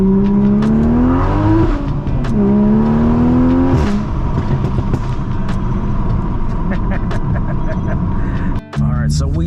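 A Toyota Supra drives along twisty roads at sunset, its engine droning steadily with rising and falling revs throughout, heard up close from inside the car, with a brief dropout near the end.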